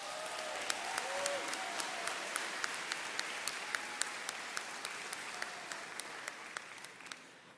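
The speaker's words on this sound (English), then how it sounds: "Let's give everyone a round of applause." A crowd at a high school graduation ceremony applauds, a sustained wash of clapping with a few sharp nearby claps standing out, fading slightly toward the end, with faint voices mixed in.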